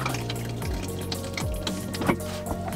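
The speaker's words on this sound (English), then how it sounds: "To refill it with more water," A small retro camper toilet refilling with water, a close gurgling, trickling flow with dripping and bubbling tones as the bowl fills, steady and alone.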